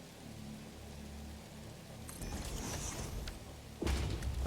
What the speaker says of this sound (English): Of course, it starts raining again.